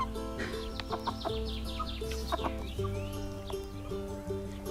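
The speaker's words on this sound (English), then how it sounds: "Louis has become a proud young rooster" A young rooster clucks and calls in short bursts among other fowl, under background music, with nobody talking.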